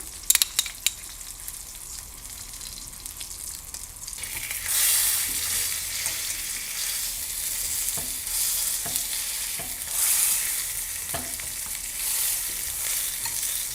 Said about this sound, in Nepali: यसमा हल्का बटर एड गरिदिन्छु डेमी ग्लेसमा।